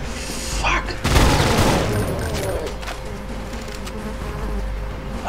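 Sustained rapid gunfire in a realism tactical survival horror shooter, a dense rattling volley with a loud burst near the start, continuing steadily throughout.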